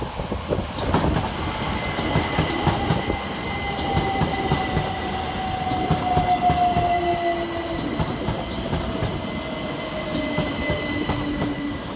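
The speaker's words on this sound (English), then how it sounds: "Next arriving into the station is 387156 and 387148" A Great Western Railway Class 387 electric train pulls into Twyford station with a loud rolling rumble, rhythmic wheel clatter over rail joints and drawn-out high squeals from the wheels as it slows along the platform.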